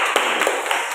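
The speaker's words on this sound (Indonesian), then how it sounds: "Kita beri aplaus" A classroom audience gives group two a short burst of applause, a brisk patter of many hands clapping at close range for about a second.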